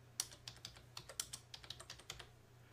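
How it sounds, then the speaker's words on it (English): A social security number typed on a computer keyboard: a quick, quiet run of about a dozen crisp key taps, close and alone with no talking. "And then type in your social security number."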